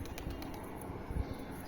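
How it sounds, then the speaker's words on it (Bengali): Pigeons settling down outdoors after flight, giving a faint, steady bird-noise bed with a soft low thump near the end that may be wing flaps; no talking. "নেমে গেছে সব পায়রা,"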